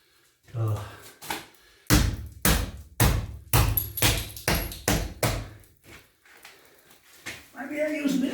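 A metal piece is hammered flat to fit through a hole, a run of about ten close, loud, evenly spaced strikes with a short pause partway through.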